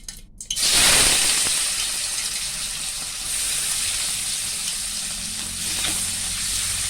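Dried anchovies, presoaked in vinegar, hit two tablespoons of hot oil with a sudden loud sizzle that settles into a steady, close crackling fry, no voices over it.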